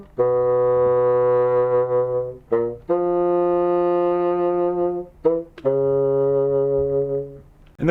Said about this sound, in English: then the bassoons join the cello pizzicato and basses pizzicato in repeating a short section of the introductory theme